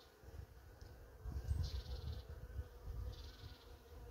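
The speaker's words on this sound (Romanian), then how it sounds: "Are multă albină pe ramă aceasta." Honeybees on a hive frame buzz in a soft, swelling drone, the buzzing rising and falling as the bees move about close by.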